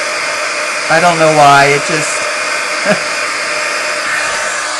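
A heat embossing tool blows steadily as it melts embossing powder on a wedding card, a continuous hair-dryer-like whoosh running the whole time while a person briefly speaks over it.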